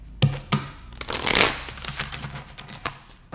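A deck of tarot cards is shuffled by hand, sharp riffling snaps at the start followed by a longer, softer swishing of cards sliding together, close and alone.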